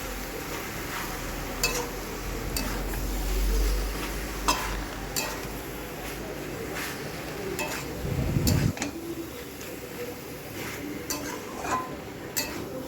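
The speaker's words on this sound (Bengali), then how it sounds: "মশলাটাকে আমি ভালো করে সবজির সঙ্গে কষিয়ে নেবো" Ground spice paste being fried and stirred with vegetables and eggplant in a pan, a continuous sizzle with repeated scraping and clinking of the spoon against the pan.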